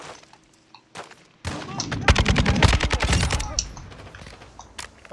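Video-game gunfire in a DMZ match: a sharp single shot, then a dense burst of rapid automatic fire, loud and close, with excited shouting in the mix.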